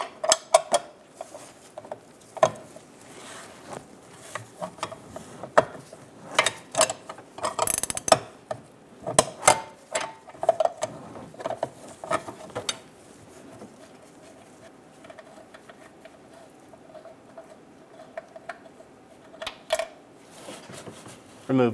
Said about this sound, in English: Remove the top nut for the transmission mount